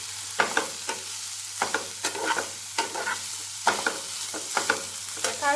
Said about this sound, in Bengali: পেঁয়াজটা হালকা ভাজা হয়ে গেলে আমি এর মধ্যে ছেড়ে দেব টুকরো করে রাখা চিকেনগুলোকে।